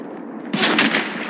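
Sniper rifle shot in the mobile shooter game Call of Duty Mobile: a single loud, sharp blast with a short, bright decaying tail.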